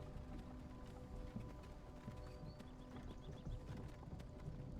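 Horse hooves clip-clop steadily at a moderate distance in Skyrim, an irregular trotting rhythm over a continuous ambient bed with faint game sounds.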